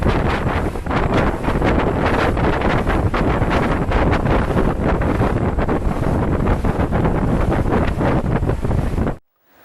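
Loud, steady rush of wind and churning water from a fast Star Line jet-powered ferry underway near Mackinac Island, Michigan, constant roar with buffeting on the microphone, ending abruptly.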